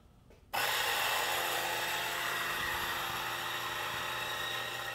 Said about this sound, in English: just grind a shot